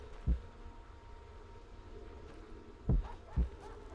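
Heartbeat warning cue from The Witcher game sounding as low, thumping pulses: one beat early, then a closer double beat near the end, over a quiet ambient hum with no talking.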